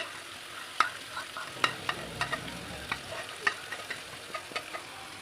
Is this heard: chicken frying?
yes